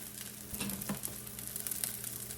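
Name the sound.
rice being scooped aside in a frying pan, sizzling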